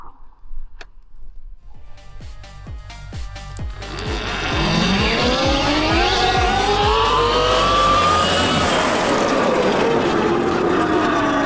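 A Surron electric dirt bike with a new 55 kW motor launches hard and accelerates to high speed, its loud motor whine rising steadily in pitch while tires and wind roar close by, with no talking.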